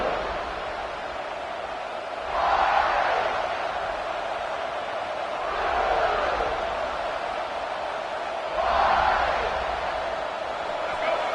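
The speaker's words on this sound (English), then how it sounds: "this home crowd is fired up and ready to make a difference today" Home crowd at an NCAA football game roars in three swelling waves over a steady stadium murmur, each surge of cheering rising and fading across the stands.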